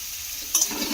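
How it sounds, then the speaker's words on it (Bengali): Carrot pieces are stirred into a frying potato mixture in a pan, giving a soft steady sizzle with a brief scraping stir of the spoon partway through, close and without voices. "গাজরটাও দিয়ে আমি এইভাবে মিশিয়ে নেব"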